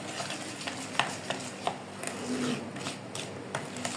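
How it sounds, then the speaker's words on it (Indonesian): A spoon stirs a thick batter of peanuts, egg and margarine in a bowl for peanut egg snacks, giving steady scraping and soft clacking with a few sharper knocks against the bowl, close and alone. "Kemudian ini saya aduk dulu menggunakan sendok sampai tercampur merata."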